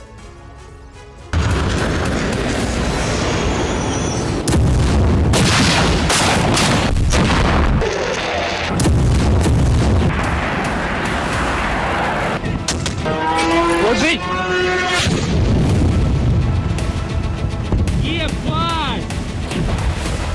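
Russian shelling strikes Kharkiv in a rapid series of loud booms and blasts, dense and continuous, with chaotic crackling bursts and scattered high whistling tones between the explosions.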